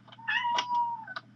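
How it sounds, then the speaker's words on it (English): A cat in the Minecraft video game lets out a single drawn-out meow, clear and moderately loud against a low steady hum, followed by a brief faint chirp. "that's a cat."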